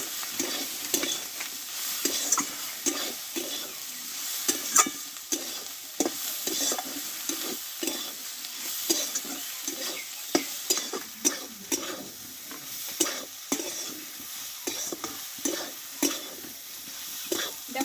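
Soybean masala with crushed garlic and coriander leaves is stir-fried in a pan. A steady sizzle runs under repeated scraping and stirring strokes of a spatula at a close, moderate level, with no talk.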